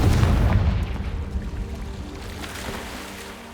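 Confringo blasting spell explosion in Hogwarts Legacy, a single loud booming burst at the start that rolls off into a long, fading rumble.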